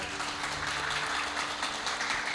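Audience applause at a World Mother Language Day musical program, just before a Ganesh invocation: a steady, dense wash of clapping from a crowd that fills the whole moment at an even level.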